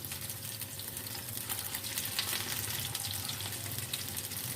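Minced-meat kebabs fry in a pan of oil with a steady, dense sizzle that swells slightly midway, close and continuous with no voices.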